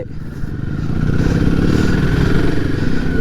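A Royal Enfield Himalayan 450 motorcycle ridden off-road drones loud and close, its engine note rising in a steady pull with a rough, throbbing thump and some rattling clatter underneath.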